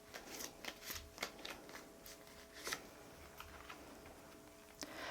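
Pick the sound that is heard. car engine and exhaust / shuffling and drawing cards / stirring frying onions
shuffling and drawing cards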